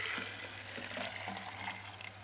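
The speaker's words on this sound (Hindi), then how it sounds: "फिर दोबारा जग लेंगे, उसमें ये छना हुआ पानी डालेंगे।" Strained homemade watermelon juice pours into a jug with a soft, continuous liquid splash and trickle, fairly close and unaccompanied by speech.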